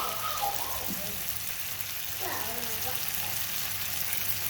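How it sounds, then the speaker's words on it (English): Onions sizzle in a pan for Somali suqaar with a steady, faint frying hiss and occasional soft stirring scrapes, while a voice talks over it. "Then we'll add the onions so that they get the most flavor"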